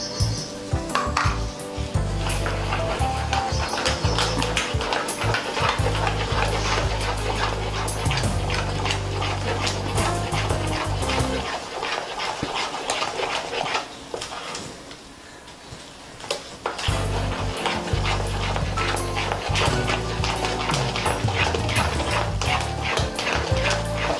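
A whisk clinks and scrapes against a bowl, beating sugar into eggless biscuit cake batter made with Oreo and Marie biscuits. The clatter is steady and loud over a busy background, with a short quieter stretch partway through.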